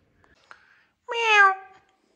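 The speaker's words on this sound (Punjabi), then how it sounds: "ਹਾਈ ਬਿੱਲੀ ਆ ਗਈ, ਮਿਆਓ" A cat gives a single clear, fairly close meow lasting under a second after a few faint small noises, then the clip falls silent.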